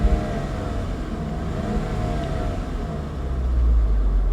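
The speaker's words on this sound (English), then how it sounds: "Listen to this engine, listen." The turbocharged engine of a Saab 9-3, just treated with a Liqui Moly engine flush, runs with a steady mid-pitched hum and whir, close by, swelling slightly louder toward the end.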